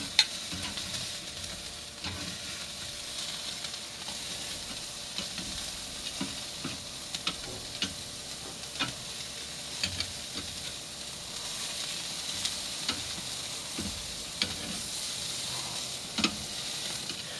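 Chicken breasts sizzling on a grill, a steady bright hiss of fat and juices with scattered pops and spatters, continuous and fairly close, with no voices.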